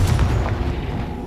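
A Confringo fire spell blasts in the Hogwarts Legacy video game, a single heavy booming explosion that hits loud at once and trails off into a low rumbling tail with no voices over it.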